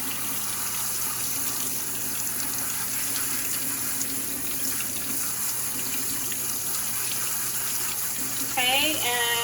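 Fermented seeds are rinsed under a running tap, with a steady close rush of water hissing throughout, then a brief rising gurgle near the end.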